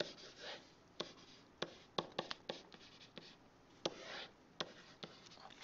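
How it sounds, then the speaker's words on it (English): A pen scratches out the quadratic formula by hand on paper, with short strokes and sharp taps in an irregular rhythm, quiet and close, with no talking. "So I write out my quadratic formula."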